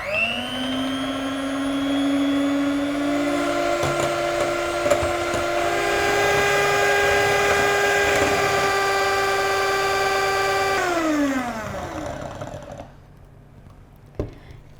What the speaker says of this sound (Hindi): तो चलिए व्हिपिंग क्रीम को व्हिप करते हैं